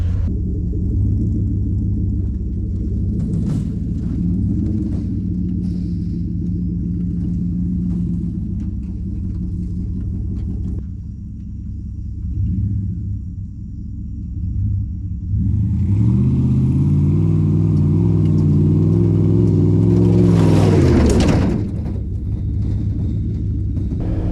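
A 1999 Dodge Ram pickup truck driving, its engine a loud steady rumble from inside the cab, rising in pitch as it revs and accelerates, then settling back.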